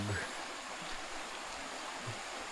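Shallow river stream flowing steadily near a crossing to a campsite in Tanay, Rizal, a soft broadband rush of water with faint voices and brief knocks mixed in.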